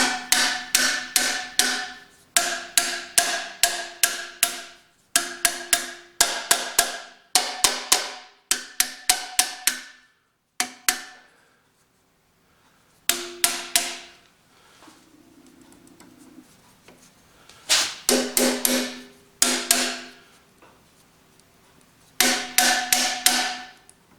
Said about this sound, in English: Let's just tap on these valves.